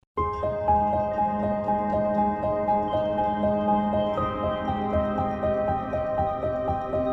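Piano plays a chord progression in Kontakt 8 with repeated rhythmic notes over sustained harmony, loud and close, changing chord around the middle, with no voices.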